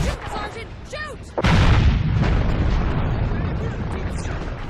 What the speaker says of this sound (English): The booming sound effects heighten the intensity of battles